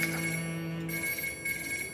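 A telephone rings steadily indoors in a tense drama scene, its electronic tone repeating in a continuous, moderately quiet pattern with no talk.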